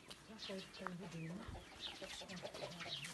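Hens clucking nearby in a village coop in short, scattered bursts, with people talking over them in the background.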